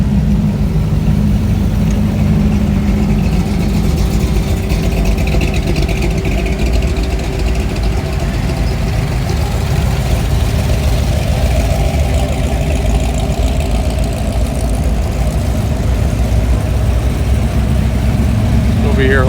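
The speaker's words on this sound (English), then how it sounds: "Nice lineup of Roadsters coming through. Different varieties. Different sounds." Several roadster engines idle and rumble at close range at a Pasadena car show, a steady deep throb lasting throughout with varied engine tones layered together and some voices mixed in.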